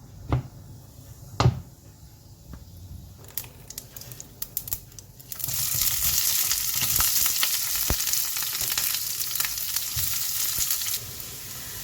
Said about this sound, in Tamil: இனி தேவையானது கடுகும் போட்டு பெருஞ்சீரகம் போடுவோம்.